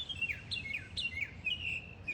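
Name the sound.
birdsong, whistle-like song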